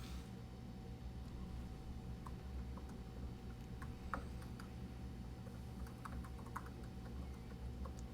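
Quiet computer keyboard typing, faint scattered key clicks over a low steady background hum, in irregular bursts somewhere in a room.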